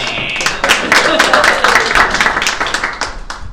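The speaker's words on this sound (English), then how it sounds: "Give Gary a round of applause." Audience applause in a real-estate investor seminar, a dense burst of clapping from a crowd that holds steady for a few seconds before slowly thinning out.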